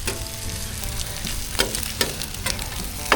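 Egg and bacon fry on an outdoor barbecue at a beachside caravan park, a constant close sizzle with a few sharp spatters and clicks.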